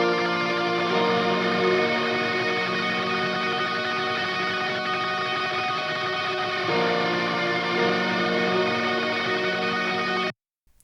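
Layered guitar tracks from the song mix blend into a sustained, droning wash of tape-textured tone, steady and full until it stops suddenly near the end.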